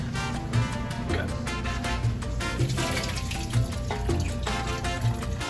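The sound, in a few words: pouring birria base liquid over meat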